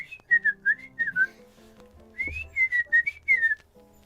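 Someone whistles a short tune nearby, two phrases of clear sliding notes separated by a brief pause, heard alone without talk.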